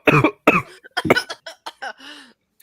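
A person coughs several times in a close, loud burst, a few harsh hacks followed by smaller throat-clearing sounds, with no talk.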